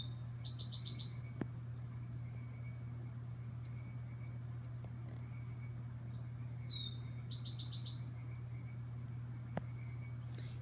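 Birds chirp outside a window, short rapid trills repeated a few times at a distance, faint over a steady indoor hum with a couple of light clicks.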